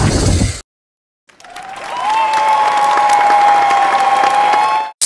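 A crowd claps steadily and loudly for a Lego character, a dense wash of applause that swells in after a short silence and runs unbroken for several seconds, with a faint sustained tone threading through it.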